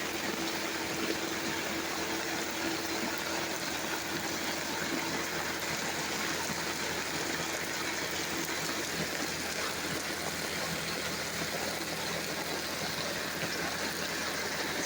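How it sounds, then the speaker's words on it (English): Steady outdoor rain splashing down near a campsite, water spattering onto a mat; a dense, continuous wash of fairly close noise with no pauses and no talk. "Splashing, even getting our mat wet."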